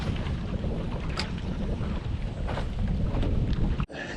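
Strong winter wind buffets the microphone on a lake during a fishing trip, a steady loud roar and rumble with gusts and some water slapping a boat, cutting off abruptly near the end.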